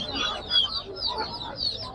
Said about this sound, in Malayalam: വ്യത്യസ്ത തരം കോഴികൾ.